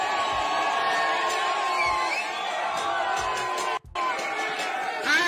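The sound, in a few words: audience shouting Marcos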